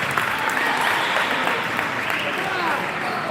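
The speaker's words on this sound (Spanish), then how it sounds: "aplausos" Spectators clapping at a youth football match in Argentina, a steady mid-distance round of applause lasting the whole moment.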